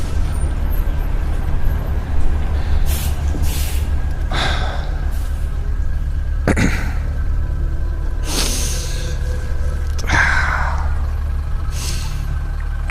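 A bus pulling in to stop at a rest area, with a deep engine idle running throughout and several sharp hissing air-brake bursts spaced a few seconds apart.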